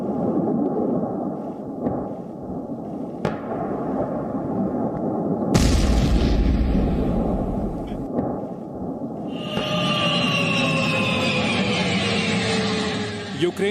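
Explosions in a war zone in Ukraine, heavy booming blasts with rumbling low end over continuous background noise, one strong burst near the middle and other thuds, with some faint voices.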